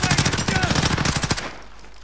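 Video game gunfire: a rapid automatic burst of shots rattles loudly for about a second and a half, then cuts off into quiet background.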